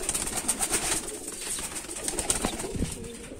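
Pigeons coo softly in a loft, with short repeated calls over steady background hiss and a few light rustles, close and clear throughout.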